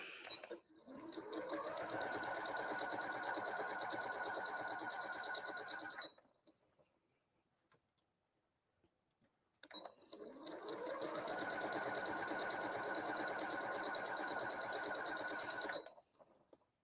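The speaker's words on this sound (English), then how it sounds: "and then I'm going to sew the little extra pieces together." A sewing machine stitches small pieces of a Friendship Star quilt block together in two steady, close runs of about six seconds each, separated by a short quiet pause.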